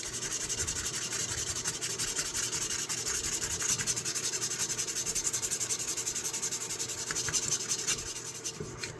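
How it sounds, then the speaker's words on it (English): Sandpaper rubbing on a knife handle, a steady close continuous scratchy rasp in even back-and-forth strokes from start to finish. "It's got to trim it off and then we'll clean it up with sandpaper."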